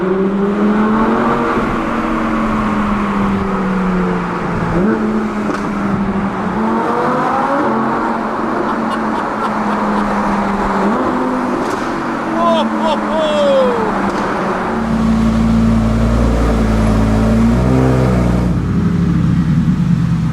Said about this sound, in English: the Audi sounds amazing